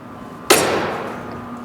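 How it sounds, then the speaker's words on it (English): A scratch awl is tapped into wood to mark a drilling divot during end table assembly: one sharp, close knock that fades over about a second in a quiet room. "Take a scratch awl and put a little divot"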